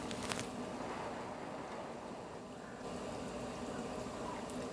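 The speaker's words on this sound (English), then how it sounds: "So the water is boiling" Water at a rolling boil in a pot for pasta, a steady, quiet bubbling hiss that continues throughout with no talking.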